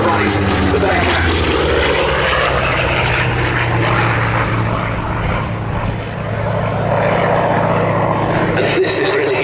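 Grumman Bearcat warbird propeller fighter at a Duxford air display, its piston engine roaring loud and steady as it passes, with a slight dip and swell in level, under a commentator's voice.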